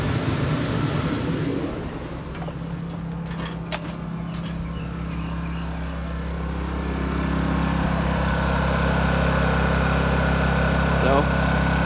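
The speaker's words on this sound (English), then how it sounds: "Generator is running on that." A Honda 2200i inverter generator runs steadily, powering a 13.5k RV air conditioning unit, a constant engine drone with low hum that swells slightly partway through, close and continuous with no talk.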